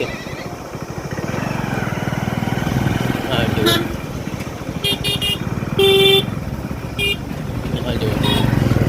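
A motorcycle riding slowly along a rural road between villages, its engine a steady drone throughout with a couple of horn toots near the middle while people talk over it.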